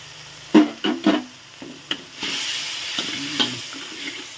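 Thin rice noodles are stir-fried in a pan, with several sharp scraping tosses close up followed by a sustained sizzle, and no talking.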